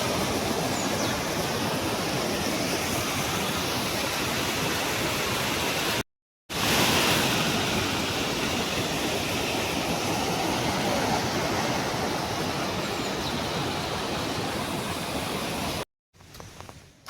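Floodwater rushes through a mountain village after heavy rain, a loud, dense, unbroken roar of fast-moving water heard close up, with two brief dropouts.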